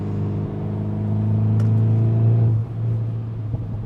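A Volkswagen T-Roc R engine revs steadily with a deep, droning rumble that rises, then drops off abruptly near the end with a few faint exhaust pops.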